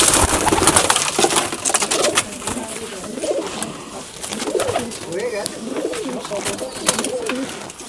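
Breeding pigeons coo repeatedly in a cage, with overlapping low, throaty calls close by, amid rustling and occasional clicks, and a person talking intermittently.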